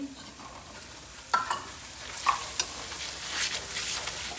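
Dry spices such as salt, chili masala and turmeric being stirred into a carrot pickle paste, with scraping spoon strokes and light sizzling in irregular bursts, close and fairly quiet, no talking.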